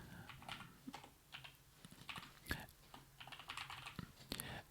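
Typing on a computer keyboard while writing Go code in a code editor: steady, close clusters of light key clicks with brief pauses, no voices.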